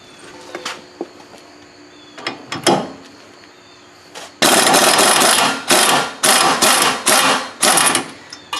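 A ratchet wrench loosens a 21 mm tie rod end nut on a 2002 Dodge Durango's front suspension. A few scattered clicks and knocks come first, then a loud run of rapid, repeated ratcheting bursts up close.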